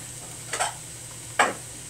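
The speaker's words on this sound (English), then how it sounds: "Now, I like to add a pat of butter." A pat of butter drops into a hot pan on a home stove, giving two short separate bursts of sizzling and scraping against a quiet background.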